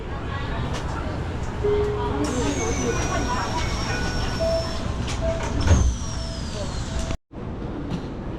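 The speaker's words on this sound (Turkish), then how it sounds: "havalimanından şehre tren var burada" An airport train from Tokyo Narita rumbles along its rails, a loud, steady interior roar with rising and falling motor whines and chimes, briefly cutting out near the end, with a voice speaking over it.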